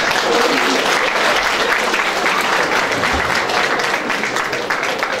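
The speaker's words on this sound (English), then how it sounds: "another round of applause for him, please" A school junior prize giving audience applauds a student, with dense, steady clapping from many hands that fills the whole stretch at close range and loud level, with no voices rising above it.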